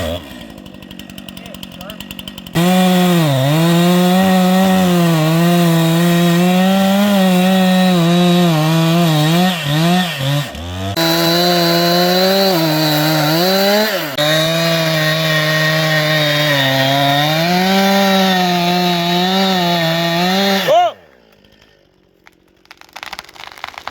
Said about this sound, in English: we had to cut a tree down